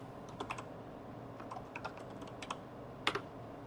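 Quiet, steady typing on a computer keyboard, with scattered soft key clicks and a few sharper taps in irregular bursts, heard close and alone against a low background hum.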